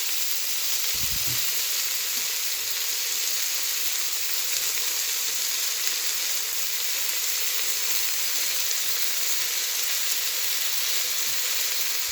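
Tomatoes frying in a pan give off a steady, loud, even sizzle that holds for the whole stretch, with a brief low knock near the start and no talking.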